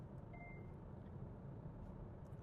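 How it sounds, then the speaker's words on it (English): A car's lane warning gives a short electronic beep while driving on Minnesota's Highway 38, the tone brief and fairly faint above the constant loud rumble of road and engine noise inside the cabin. "The beeping is my car telling me it doesn't know where the side of the road is."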